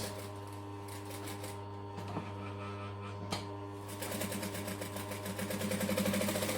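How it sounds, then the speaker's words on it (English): A sewing machine top stitching fabric card slots for a wallet, a steady mechanical hum with rapid rhythmic needle ticking that quickens and grows louder toward the end, heard close and alone. "just top stitch them down so that they won't move"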